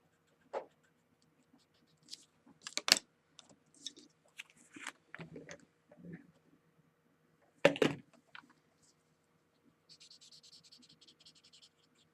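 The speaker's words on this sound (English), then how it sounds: "I'm going to use silver PC 949 and I'm going to color in." A silver Prismacolor PC 949 colored pencil scratches across a card in sparse, irregular strokes, close and quiet with long pauses between, ending in a run of soft, fast scribbling.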